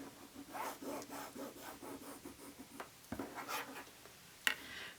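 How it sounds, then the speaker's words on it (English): A pencil drawn along a Creative Grids quilting ruler across fabric for a nine patch block, giving close, steady rubbing and scratching strokes repeated in a loose rhythm, with a few small taps and one sharp click near the end. "So we're just drawing a line 1/4 inch on either side from the middle."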